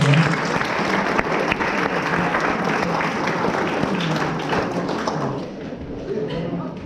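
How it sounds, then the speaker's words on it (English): A crowd claps steadily and fairly loudly at a soccer school celebration evening, a dense patter of many hands that eases off slightly toward the end, with faint voices beneath. "So a big round of applause for Sarah"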